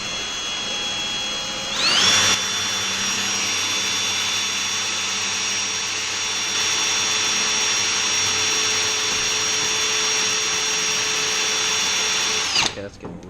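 A power drill match-drills holes through an aircraft seat pan on a Zenith 750 Cruzer kit plane, running as one steady, loud, high-pitched whine for about ten seconds before cutting off.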